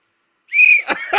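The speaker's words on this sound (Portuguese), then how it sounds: "Esse é o apito do assédio" A single sharp, high whistle blast held for about a quarter second, then a couple of short noisy bursts right after.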